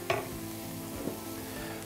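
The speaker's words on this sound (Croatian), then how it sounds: "brašno popržimo zajedno sa lukom" Flour fries with onion in oil in a pan, giving a soft steady sizzle with a stirring scrape near the start, fairly quiet and continuous.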